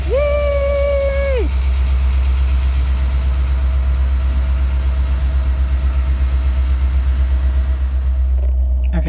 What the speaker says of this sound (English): I'm just sitting here watching the train go back and forth.